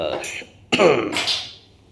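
A short, sharp cough from someone close by, followed by a breathy rasp, with a brief voiced sound just before it.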